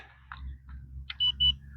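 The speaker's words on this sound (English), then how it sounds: "squeeze the trigger once, and it should make a beeping noise" Two short, bright electronic beeps from an X-Shot toy blaster as the trigger is squeezed, close and clear, after a few faint clicks over a low hum.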